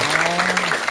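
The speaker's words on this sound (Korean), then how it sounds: "박수" An audience at a Korean television talk show claps, a brief burst of applause under a sustained voice tone.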